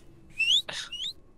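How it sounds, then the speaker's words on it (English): Whistling from people in a group, a couple of short rising and sliding tonal whistles, fairly close and clear, with a brief breathy burst between them. "Can you guys stop whistling?"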